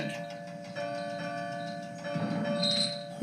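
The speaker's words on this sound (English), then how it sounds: "The bell chimed cheerfully as it was loaded onto Duncan's flatbed." A big bell rings out with sustained, humming tones while being loaded onto a flatbed wagon, a soft ring swelling near the end over low background rumble.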